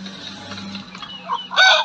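A few young Indian game chickens cluck and squawk close by in Antalya, Turkey, the calls growing louder and busier toward the end over a low steady hum.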